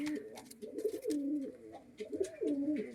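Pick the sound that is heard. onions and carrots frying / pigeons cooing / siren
pigeons cooing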